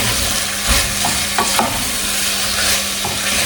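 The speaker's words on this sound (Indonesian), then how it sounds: "diaduk-aduk terus lagi, diaduk-aduk terus" A Slovak stew is stirred as it fries in a pan, with loud continuous sizzling broken by scraping and stirring knocks, and no voices.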